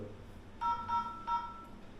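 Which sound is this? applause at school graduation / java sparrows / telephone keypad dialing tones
telephone keypad dialing tones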